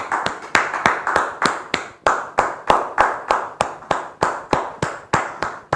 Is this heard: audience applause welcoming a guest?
yes